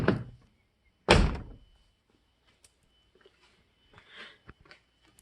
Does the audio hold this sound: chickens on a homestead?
no